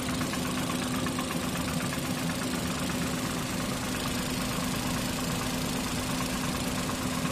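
A running Suzuki K6A car engine drones steadily up close, its rough, misfiring idle carrying a faint rhythmic valve knock throughout.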